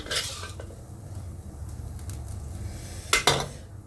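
Metal utensils scrape and clatter against a wok in steady stir-frying of noodles with vegetables, with a couple of sharper clanks near the end.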